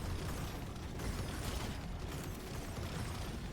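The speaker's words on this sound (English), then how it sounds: "There's a lot of explosions happening" Dense, rumbling explosions and mechanical clatter from the video game Akimbot fill the whole stretch, a steady loud barrage of bursts and pops with no clear pauses.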